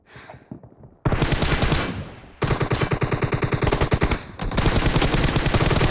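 Rapid automatic gunfire from a PUBG team deathmatch, loud and close, with bursts of machine-gun fire broken by short pauses, then sustained volleys and overlapping shots.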